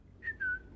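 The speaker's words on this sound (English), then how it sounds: "Whistle." Whistling in Sniper Elite 5: two short, clear tones, a quick chirp followed by a longer sustained note, over quiet game ambience.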